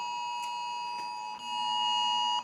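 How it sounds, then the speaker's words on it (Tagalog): A phone emergency alert for a red rainfall warning in Metro Manila sounds a steady, loud electronic alarm tone, close and sustained over the whole stretch, with a brief dip partway through. "Nakakagulat naman yung alarm nyo. Ayan, red rainfall warning na naman sa Metro Manila."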